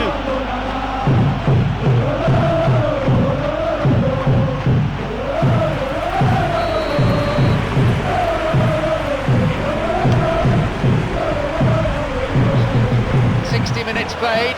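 A stadium crowd in the football game eFootball 2026, a loud, dense roar of thousands of voices that rises and falls in waves, with chanting swells running continuously for the whole stretch.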